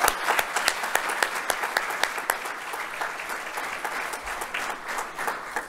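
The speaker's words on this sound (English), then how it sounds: "let's give them a big round of applause for being here." An audience at an Army Finance Command change of command ceremony applauds Army families, steady sustained clapping with distinct individual claps audible throughout, fairly close and even in loudness.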